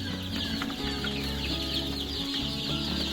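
A flock of chickens on a poultry farm clucks continuously inside the shed, a dense, steady chorus of overlapping calls over a constant low hum, with no voices.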